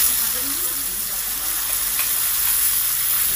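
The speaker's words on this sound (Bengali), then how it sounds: "লাউগুলো দিয়ে দিলাম" Finely chopped bottle gourd dropped into a pan of sizzling tempering for a fish-head lau ghonto, giving a loud, continuous hiss of hot oil throughout with no clear voices.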